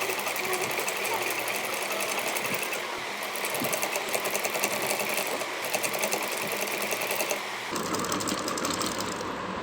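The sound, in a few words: sewing machine stitching trim onto a dhoti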